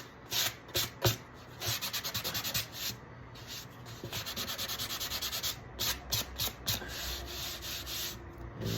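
Hand sanding with 220 grit sandpaper across the carved wooden top of an octave mandolin, a close, steady run of rhythmic scratchy strokes with short pauses between bursts, no talking.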